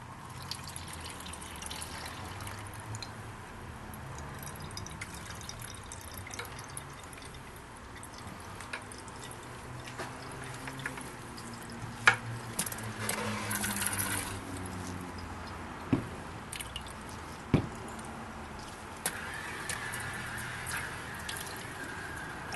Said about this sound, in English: I'm going to pour that through the filter